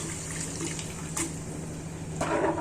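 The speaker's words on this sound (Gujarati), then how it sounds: "આ રીતે આપણે ગુવાર જે બાફેલો હતો તે પાણી સહિત જ ઉમેરી દેવાનો છે" Boiled cluster beans tipped into a cooking pot together with their cooking water, a steady wet pouring and splashing that swells louder near the end, with no voices.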